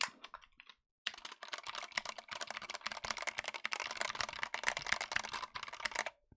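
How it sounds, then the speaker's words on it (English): A mechanical computer keyboard with linear Cherry MX Red switches is typed on quickly and steadily. The close, dense clacking of keystrokes runs alone and without pause after a brief silence near the start. "that's the kind of keyboard that makes like the best kind of click-clack noises"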